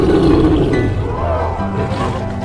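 A lion roars loudly in an animated film, a deep, sustained roar filling the whole moment up close, tailing off with lower rumbling growls.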